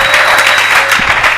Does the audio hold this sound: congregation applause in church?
yes